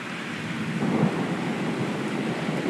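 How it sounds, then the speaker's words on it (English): A thunderstorm roars with dense, rushing noise from wind gusts of about 40 mph and rain, a low rumble swelling briefly near the start. "This is at least 40 mile an hour winds."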